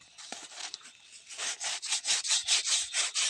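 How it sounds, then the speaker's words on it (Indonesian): Rhythmic scratchy rubbing of sandpaper against an electric fan's shaft during a repair, starting light and becoming louder, steady back-and-forth strokes close up. "Oke, kita amplas dulu."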